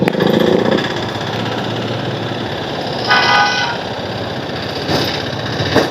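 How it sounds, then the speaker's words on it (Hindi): Traffic rumble with a Bullet motorcycle's horn honking a couple of times, short bright beeps over steady engine noise. "ये देखो चाचा बुलेट लेके हॉर्न मार के निकल रहे हैं।"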